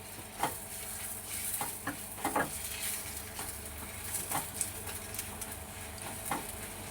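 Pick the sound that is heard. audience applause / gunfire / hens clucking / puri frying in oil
puri frying in oil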